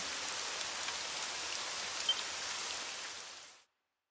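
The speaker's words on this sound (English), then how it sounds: "It would have to go and start raining, wouldn't it?" Steady rain falling in the video game Dragon Quest XI, an even hiss of drops on surfaces, soft and constant before cutting off abruptly near the end.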